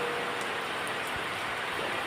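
Steady rain falls in a monsoon downpour, a dense, even hiss that runs the whole time with no break and no voices.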